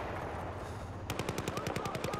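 Rapid automatic gunfire from the video game Battlefield 4, a loud burst of evenly spaced shots starting about halfway in and continuing steadily to the end over background game noise.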